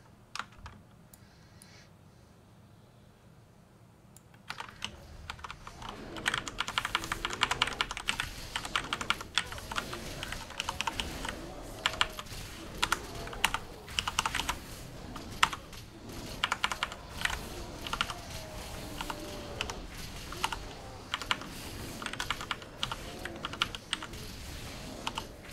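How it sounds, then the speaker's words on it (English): Computer keyboard keys clatter rapidly and irregularly while tanking a World of Warcraft dungeon, quiet at first and then a steady stream of close, sharp clicks for over twenty seconds. "My keyboard gets a nice big workout whenever I tank dungeons."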